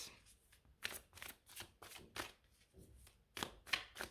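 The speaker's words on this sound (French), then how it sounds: "je vais aller remettre des cartes tout de suite" Tarot cards being shuffled by hand close up, a steady run of quick papery riffles and slaps repeating at an even pace, with no talking.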